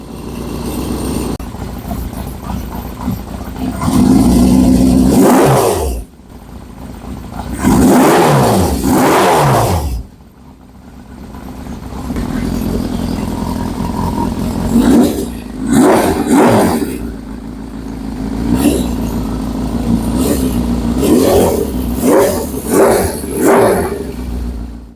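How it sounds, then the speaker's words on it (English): A 1971 Honda CB500 motorcycle, running again after sitting for 30 years and a carburetor rebuild, idles loudly up close with repeated throttle blips and revs rising and falling through the run. "After sitting for 30 years, this bike once again is running and idling."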